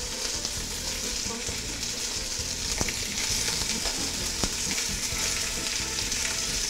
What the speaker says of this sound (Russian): в раскаленный казан кидаем мясо и курдючный жир